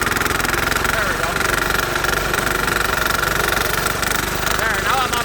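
A diesel Sears Bolens garden tractor engine runs at full throttle in snow, a loud steady mechanical drone with a knocking rumble filling the whole stretch, while someone talks over it.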